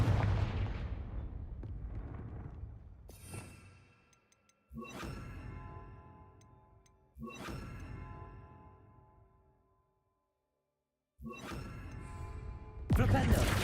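In the video game Hogwarts Legacy, the Confringo fire spell lands in three or four heavy, booming blasts, each a sharp hit followed by a long rumbling decay into quiet, with a louder burst at the end.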